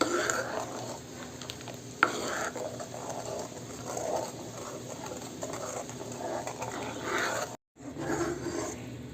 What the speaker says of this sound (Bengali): গ্যাসে বসিয়ে আমি দু মিনিটের জন্য আমি এভাবে নাড়িয়ে নেব গ্যাসটাকে মিডিয়ামে রেখে